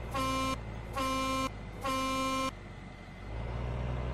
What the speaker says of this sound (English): I might even honk the horn as we go past Cowboy Andy's hotel